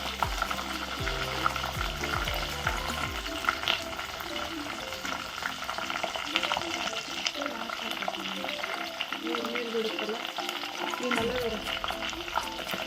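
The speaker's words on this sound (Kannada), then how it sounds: "ಇವೆಲ್ಲ ಎಲೆಗಳ ಕರಿಗಿ ಕಲರ್ ಚೇಂಜ್ ಆಗ್ತೈತ್ರಿ" Hibiscus, lemon and other leaves fry in hot oil with a steady crackling sizzle that carries throughout, close and fairly loud, with a low background hum and some faint voices.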